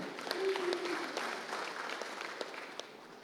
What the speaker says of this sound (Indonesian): Sekali lagi kita mari berikan aplaus tepuk tangan.